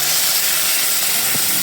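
Onion frying in hot mustard oil with garlic and ginger in a home kitchen produces a loud, steady, broadband sizzle that holds evenly throughout without pauses.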